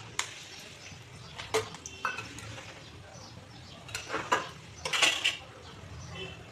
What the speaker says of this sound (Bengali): আমি এখন এতে সবার আগে তেজপাতাটা দিয়ে দিচ্ছি